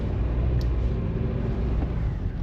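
A Toyota Innova Hycross GX-O pulls forward in traffic, its low, dense rumble rising from inside the car and holding loud and steady for a couple of seconds.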